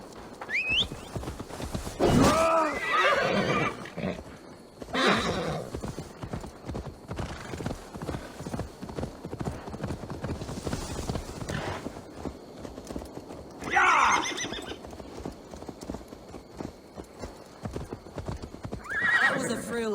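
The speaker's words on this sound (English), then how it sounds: "Now to deliver Magni his horse." A horse's hooves clip-clop steadily in Assassin's Creed Valhalla, with several loud neighs and whinnies breaking through while a character talks over the scene.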